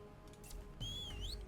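A faint whistle sounds inside the stealth tactics video game Stargate: Timekeepers, a thin rising-and-falling tone lasting under a second over quiet game background.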